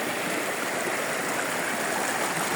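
Water of the Kabuayahan Falls stream rushing steadily, a close, continuous broadband roar with gurgling texture and no voices, unchanging in level throughout.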